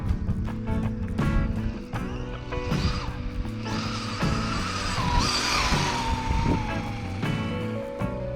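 The rear wheel of a Losi Promoto MX radio-controlled motorcycle spins on a parking-lot surface, giving a loud, continuous electric whine with rising and falling pitch and rough tire scrubbing. The sound is close and constant throughout.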